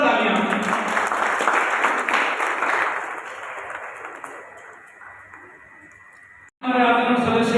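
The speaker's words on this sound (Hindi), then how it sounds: "एक बार जोरदार तालियां" Loud applause from an audience at a Haryana ceremony honouring journalists, a dense wash of clapping that gradually thins and fades over several seconds before a voice cuts in abruptly at the end.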